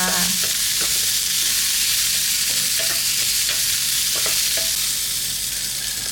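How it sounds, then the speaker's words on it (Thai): Pork balls and garlic stir-fried in a hot pan, with steady close sizzling and repeated scraping stir strokes throughout, no voices. "พอกระเทียมเหลืองแล้วก็ใส่ลูกชิ้นหมูลงไปเลยค่ะ ผัดผัดผัดผัดค่ะ"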